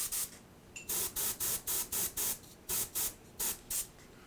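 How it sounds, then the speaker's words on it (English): Spray paint hisses onto a painted Shadows of Brimstone miniature in a series of about a dozen short, evenly spaced bursts, close and alone. "I'm going to spray a little bit more on this book."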